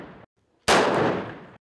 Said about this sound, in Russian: Но пара выстрелов...